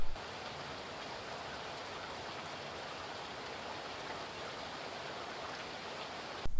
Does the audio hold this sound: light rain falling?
yes